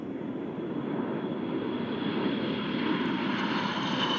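A fleet flyby of military aircraft at the NAS Oceana Air Show, a steady broad engine roar holding loud and even throughout with no talk.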